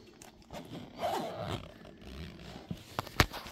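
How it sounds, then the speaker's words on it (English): A zipper on a ham radio backpack is pulled in a couple of short, close scraping runs, with a sharper rasp near the end. "you got more zippers than a Jansport backpack"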